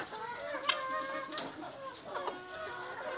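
A fancy chicken clucks a few times at close range, soft, irregular calls over quiet background noise, without any speech.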